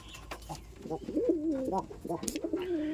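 Pigeons at a home loft of about two hundred birds, including yellow Lotan tumblers, coo in repeated throaty, warbling phrases that rise and fall, close and fairly loud, with faint background noise.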